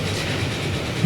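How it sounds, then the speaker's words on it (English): Train passing in the Transport Fever 2 video game, a steady, loud rolling rumble with faint clickety-clack running the whole time and no talk over it. "You can see another train there."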